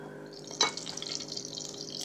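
About a teaspoon of chopped garlic sizzles in roughly two tablespoons of hot oil in a pan, giving a brief crackling hiss with a sharper pop partway through.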